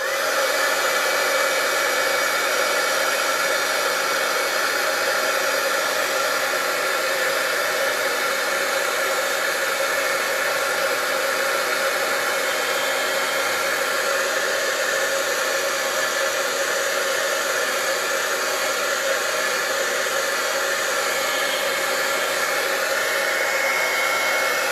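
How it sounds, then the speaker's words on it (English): A heat tool drying shimmer paint on a card gives a loud, steady, close-up blowing roar that continues without a break and has no talking over it. "excuse the noise here where I just quickly heat dry these"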